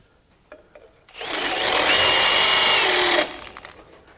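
A step reamer cuts up to a 1/2 inch hole through 1/2 inch steel with a drill, giving a loud, close whirring burst of about two seconds between a few small clicks and quiet stretches.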